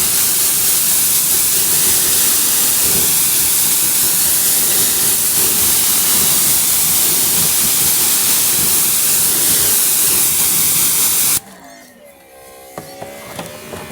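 A Greenworks Pro 2700 PSI electric pressure washer sprays a loud, steady, hissing jet for about eleven seconds while rinsing pollen off a surface, then cuts off abruptly, leaving faint quiet sounds.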